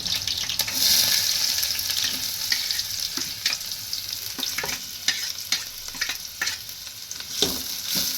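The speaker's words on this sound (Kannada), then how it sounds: "ಉಳ್ಳಾಗಡ್ಡಿ ಫ್ರೈ ಅದು ಉಳ್ಳಾಗಡ್ಡಿ ಫ್ರೈ ಅದು ರೀ" Onions frying in hot oil in a pan, a continuous close sizzle with scattered stirring clicks and scrapes.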